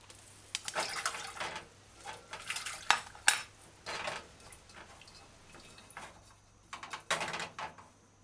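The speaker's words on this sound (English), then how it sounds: "Now we're going to rinse these properly." Sweet peppers being rinsed with water in a cooking pot make intermittent splashing and clinking bursts, close and fairly quiet, with pauses between them and no talk.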